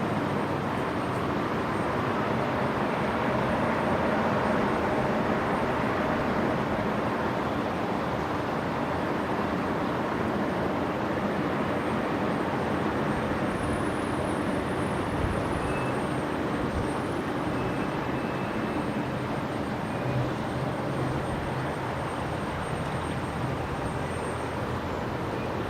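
An airliner taking off from Brisbane Airport runway 01 right, a steady broad jet roar sustained throughout at a moderate distance with no voices.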